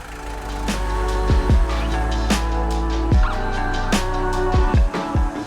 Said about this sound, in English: Now we'll try to start up the engine again to try to troubleshoot.